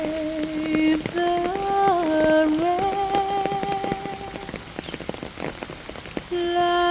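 Steady rain patters on a surface throughout, paired with a gentle instrumental melody of the hymn Amazing Grace in a looping lullaby-style rain soundscape. No voices.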